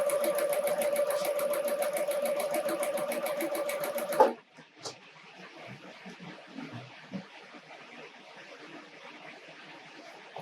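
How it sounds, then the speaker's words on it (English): Sewing machine stitching snowman quilt blocks, a fast rhythmic clatter for about four seconds that stops abruptly, followed by quiet handling noises and small taps. "We're going to sew all 4 of these"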